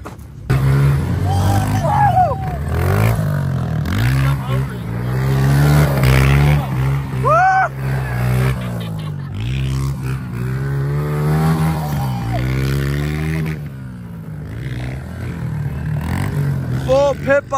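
Several pit bike engines racing at Carnegie SVRA, loud buzzing revs rising and falling nonstop, with voices talking over the din.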